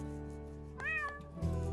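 Cat meowing in an animated children's show, with one clear, fairly close meow in the middle, a short follow-up sound and steady background music underneath.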